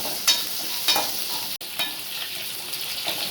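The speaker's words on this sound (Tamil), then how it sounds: "வெங்காயம் நல்லா வதங்கிக்கலாம்." Onions sauté in a pan for garlic kara kuzhambu, a steady close sizzle with a few louder stirring scrapes and one brief dropout in the middle, no voices.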